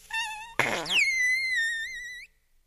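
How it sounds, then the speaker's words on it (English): A high-pitched, squeaky falsetto fart sound effect, comic and helium-tinged, starting with a brief tone, then a sputtering burst that slides into a long, whining pitch glide that trails off; loud and alone, with no talking. "who let an amazing falsetto fart during rehearsals at the Sydney Opera House after having playfully put helium up his ass"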